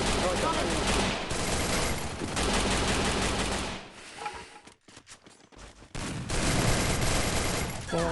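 Gunfire in the Free Fire mobile battle royale game during a pro league match: dense, loud rapid-fire bursts that drop out into a short near-silent gap midway, then resume just as heavily.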